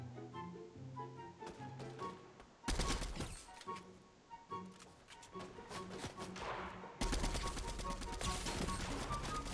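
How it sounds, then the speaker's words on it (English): Gunfire in a shooter video game, rapid bursts of sharp shots in loud clusters, alternating with quieter stretches of tonal in-game music and thumps. "Ooh, that's a gunshot."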